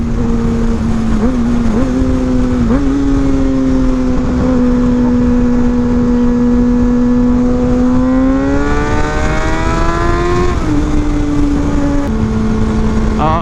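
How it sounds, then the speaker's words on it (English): Road traffic passes a roadside rider. A single loud engine hums steadily, then climbs in pitch as it speeds up past and drops away again, over continuous wind and road noise. "Oh, a bunch of traffic coming up."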